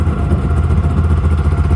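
A rebuilt Yamaha 700 triple engine idling close up, a loud, steady, slightly lumpy mechanical chug with light clatter, running alone without talk.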